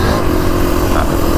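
Kawasaki KX450X dirt bike engine under power, a loud, steady close-up roar with a buzzing exhaust tone that holds throughout the short stretch, with wind rush mixed in.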